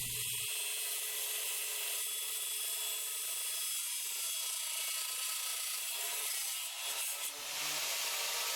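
Mini chop saw cutting 1/2 inch copper tubing, a loud steady high whining grind held for several seconds without pause, ending with a brief change as the blade finishes the cut.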